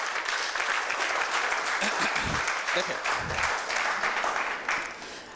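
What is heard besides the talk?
audience applause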